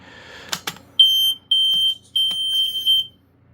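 A few clicks, then a First Alert SA80FC smoke alarm's piercing high-pitched test beep sounds in several loud bursts of varying length, close up, with no talking.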